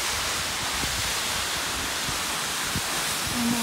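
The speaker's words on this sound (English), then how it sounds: "I can see the top of these waterfalls" Broad, steady rushing of a waterfall heard from a nearby hillside path, a constant dense roar with no pauses or talk.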